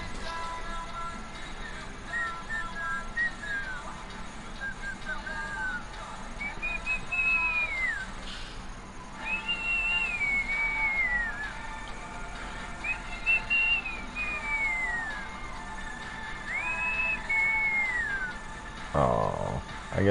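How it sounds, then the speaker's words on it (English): A person whistles in a GTA game, giving four clear, mid-loud melodic phrases that each rise and then slide downward, separated by short gaps over a low background hum. "Oh, I guess he didn't like my whistling."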